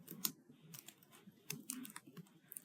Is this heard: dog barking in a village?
no